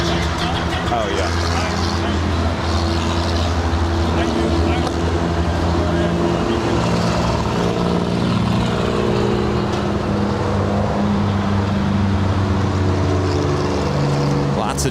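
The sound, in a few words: road traffic heading to the beach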